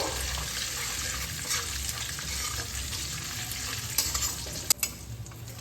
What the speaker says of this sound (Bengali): ফোড়নে দিয়ে দিচ্ছি 2টো শুকনো লঙ্কা, 1টা তেজপাতা, 3টে এলাচ, 2টো দারচিনি দানা। হালকা করে ভেজে নেব।